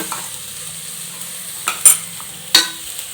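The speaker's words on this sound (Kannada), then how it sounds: "ಸ್ವಲ್ಪ ಹಸಿ ವಾಸನೆ ಹೋಗೋಕ್ಕಂತ ಹುರಿತಿರ್ಬೇಕು ಒನ್ ಟೇಬಲ್ ಸ್ಪೂನ್ ಶುಂಠಿ ಬೆಳ್ಳುಳ್ಳಿ ಪೇಸ್ಟ್ ಹಾಕೋಣ" Ginger garlic paste sizzling softly in hot oil in a pan, with a few sharp scrapes and clinks of a spoon stirring it, close and with no talking.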